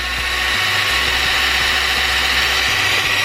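The motor of a New Bright Reaper RC truck runs at full throttle, giving a constant, close, loud high-pitched whir and hum with slight wavering, and no voices.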